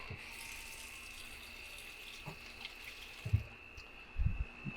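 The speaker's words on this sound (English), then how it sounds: "I'm going to take a little splash of cold water." Cold water from a kitchen tap runs in a steady low wash over a faint hum, with a few soft clunks and splashes near the end.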